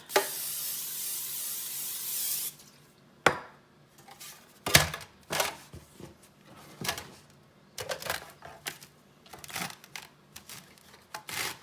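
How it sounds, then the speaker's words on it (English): Short hiss of butter spray misted onto a bread pan in a home kitchen, followed by clattering pan and utensil knocks as the pan is handled. "Spray a little butter on it."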